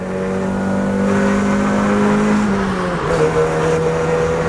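A Mazda MX-5 roadster engine revs steadily up close, its pitch holding then dipping and rising again in a smooth, throaty tone.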